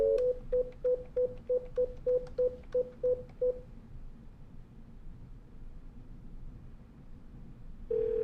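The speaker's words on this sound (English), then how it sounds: "I'll dial the number" Keypad tones from a Cisco IP Phone 8841 as a number is dialed: about a dozen short, evenly spaced beeps in a quick run, then quiet line hiss, and a steadier tone at the very end.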